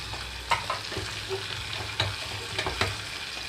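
Mint, coriander and tomato fry in a pan, giving a steady close sizzle broken by several sharp scrapes and taps of a spatula against the pan.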